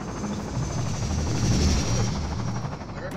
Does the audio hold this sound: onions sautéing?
no